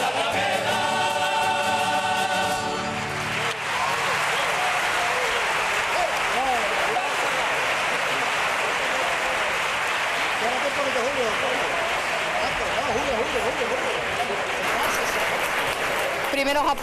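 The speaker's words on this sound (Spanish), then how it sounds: "Primeros aplausos a las coplas que suenan ya en este gran teatro Falla" A theatre audience at the Gran Teatro Falla in Cádiz applauds a chorus's songs, with dense, sustained clapping across the whole stretch, following a short burst of music at the start, with no speech.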